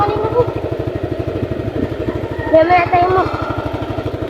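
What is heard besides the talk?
motorcycle being parked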